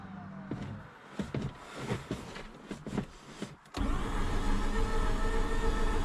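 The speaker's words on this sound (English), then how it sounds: "The starter's spinning strong" After a few scattered clicks and knocks, a Mazda RX8's starter motor kicks in partway through, spinning strongly in a loud, steady, close whir that holds to the end.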